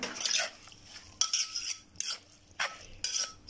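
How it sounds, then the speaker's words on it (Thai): A spoon stirs shrimp chili paste with a little fish sauce, making four or five quiet, close scraping clinks at uneven intervals against the bowl, with no talking. "เอาละเดี๋ยวก็ใช้ช้อนคนอย่างเดียว"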